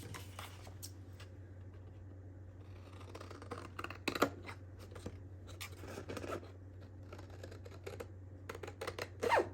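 Paper file folder being cut with scissors, giving a string of close, quiet snips and crisp crunches scattered unevenly, with a slightly louder cut near the end over a low steady hum.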